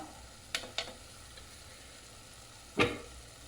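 White chickpea masala, made without onion or garlic, is stirred and fried in a pan: a soft steady sizzle broken by a few sharp spoon clinks, the loudest near the end, with no voices.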